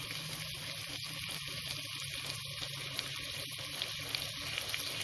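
Moringa drumsticks fry in a pot with a steady, dense sizzle and crackle. The sound continues throughout with no voices.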